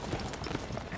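Horses in The Witcher 3 Wild Hunt give a quick run of clip-clopping hoofbeats, faint and brief, with dense rapid strikes over about a second.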